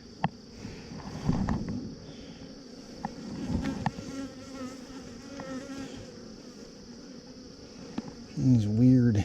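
Bees hum steadily around a hive frame as a Texas beekeeper moves frames from an 8-frame to a 10-frame box, a continuous buzzing drone with occasional louder passes and a brief voice near the end.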